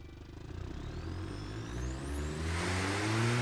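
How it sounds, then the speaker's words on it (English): A 300 horsepower inline-4 car engine idling in a video game, a low rough tractor-like rumble with steady harmonic drone that swells slightly toward the end, heard alone. "Sounds like a tractor as always on idle."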